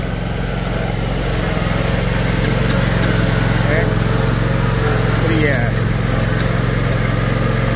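A Thor Grandstand Multiforce stand-on mower runs steadily nearby during a fall cleanup, its engine holding a constant drone throughout.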